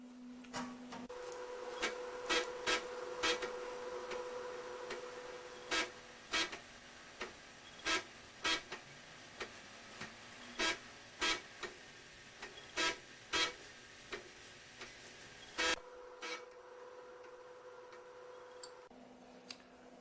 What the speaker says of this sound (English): Typical floppy disk reading noise.